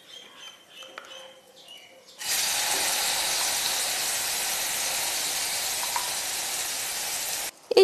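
Prepared spice paste for a vegetarian coconut curry hits a hot pan after cumin seeds and asafoetida, bursting into a loud, steady, broadband sizzle that holds evenly for about five seconds after a quieter start.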